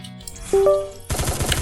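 Gunfire in the video game Free Fire: brief game tones, then a rapid burst of close, punchy shots at the end.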